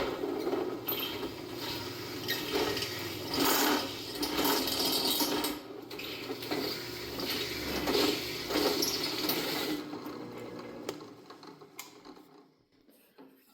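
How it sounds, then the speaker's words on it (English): Step drill bit grinding and chamfering a hole in steel during a scratch-built gantry crane project, a loud, continuous mechanical whir and rattle with pulsing bursts that ends abruptly into near silence. "you can come down and just touch that next size, and then it puts a chamfer, takes the burr off of the previous hole."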